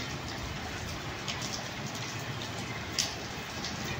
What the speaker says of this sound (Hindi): हरियाणा में जो पहली बारिश हो रही है